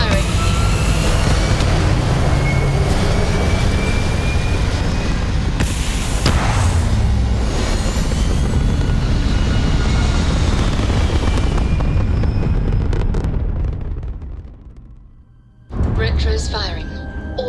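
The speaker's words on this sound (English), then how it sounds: "All thrusters firing." Spaceship thrusters fire in the game Starfield with a loud, sustained roaring rumble and bursts of blast noise that fade out near the end, then a fresh burst returns, while voices speak over it.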